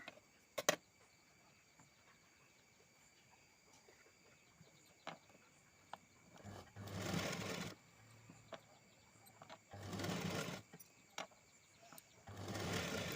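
A sewing machine stitches a blouse lining in short bursts, three or four quiet whirring runs separated by pauses, with faint clicks and room noise in between.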